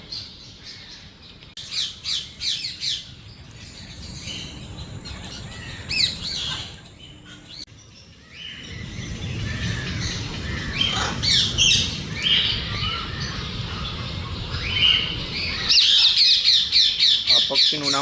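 Rainbow-coloured parrots at a zoo give loud, harsh squawks and chirps in repeated bursts over a busy background of other birds and crowd noise, with the calls growing denser toward the end.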